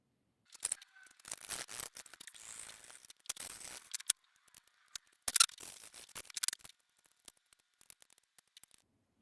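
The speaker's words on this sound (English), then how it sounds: "So I'm going to cut the center section flush with the chassis" A Bachmann OO gauge Class 85 model train chassis is cut and shortened with a small cutting tool, heard as close, sharp snips and crunching clicks in irregular bursts separated by quiet pauses.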